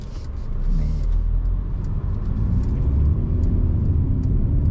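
A Mercedes-Benz CLE cruises at high speed on a long drive, heard as a steady low cabin rumble of road and engine noise, loud and unbroken throughout.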